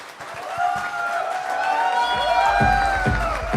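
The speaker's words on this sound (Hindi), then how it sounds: "जोरदार तालियां" Audience applause and cheering after a talk at a Blulife manufacturing event, a crowd clapping steadily with whoops and harmonic tones over the top, growing fuller and louder toward the end.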